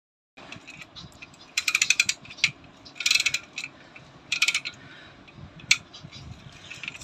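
A car tire jack ratchet wrench being cranked, giving bursts of quick metallic clicking that come in three main runs with pauses between, plus a final sharp click, close and fairly loud over faint background hiss.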